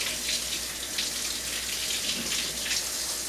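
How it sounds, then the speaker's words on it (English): Running tap water splashes steadily as a hand is rinsed under a faucet in a home kitchen, a continuous close hiss with slight shifts in the flow over a few seconds. "I'm going to take off my glove here and rinse my hand"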